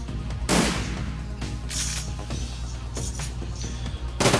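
Weapons fire at a stationary gun turret in the video game Shadowrun Returns. A few separate bursts of shots land at uneven intervals over a low, steady background.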